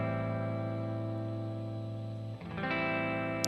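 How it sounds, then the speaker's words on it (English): Electric guitar run through a reverb effect in Ableton Live: a sustained, distorted chord rings steadily, then shifts to a new chord near the end, with a washy tail and no voices. "so to add a little bit of reverb, I can hear it a little bit"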